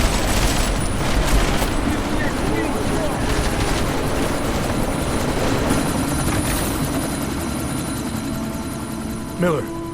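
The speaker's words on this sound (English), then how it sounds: "We can't let that chopper take off, Jensen." A helicopter roars in the video game Deus Ex: Mankind Divided, its loud, steady rotor and engine noise running throughout with gunfire and other game effects mixed in.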